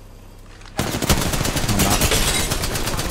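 Rapid automatic gunfire from a video game battle royale match bursts in after a brief quiet lead-in, sustained loud shots with a few short words of talk mixed in.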